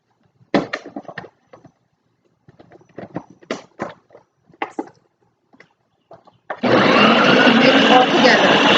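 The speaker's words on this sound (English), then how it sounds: "I'm going to blend this" A blender whirs loudly and steadily for the last couple of seconds, blending a blue cheese mixture for a salmon Wellington, after a stretch of a person talking with small kitchen clatters.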